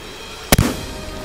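A single sharp shotgun blast at a driven pheasant on a shoot in Wales, one loud close crack with a brief echo, then quiet.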